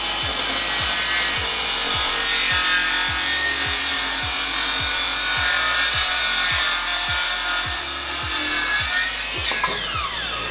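Circular saw cutting wood at a 45 degree bevel, a loud, steady rasping cut running nearly the whole time with a regular rhythmic pulse underneath, then winding down near the end.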